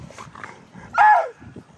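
A big dog gives a single loud bark up close, with faint shuffling and softer noises around it.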